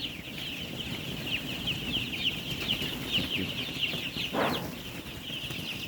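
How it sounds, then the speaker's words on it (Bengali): Chickens on a broiler poultry farm cluck and chatter in a dense, steady barn ambience, with one brief louder squawk near the end and no talk. "মুরগি তো অনেক সুন্দর ফুরফুরে আছে ভাই একবারে"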